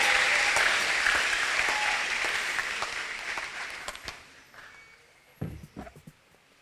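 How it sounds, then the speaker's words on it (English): An audience at an Easter music concert applauds the singers, loud and dense at first, then thinning out over a few seconds to scattered individual claps before fading. "Please give them a better round of applause as they prepare."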